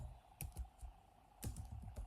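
Keyboard typing in an animation sequence: two short bursts of clicky keystrokes, a few quick taps around the half-second mark and another cluster near the end, fairly quiet with no voices.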